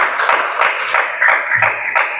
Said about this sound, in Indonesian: Kita kasih tepuk tangan untuk Yusuf